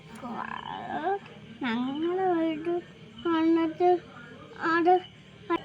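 Frog croaks, a series of short warbling calls in uneven bursts, close and moderately loud, with a voice around them.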